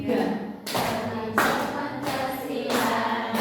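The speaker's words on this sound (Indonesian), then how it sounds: "Sambil tepuk tangan" A class claps along at the start of a song, a few broad slaps spaced about a second apart with softer taps and shuffling between them, heard close up.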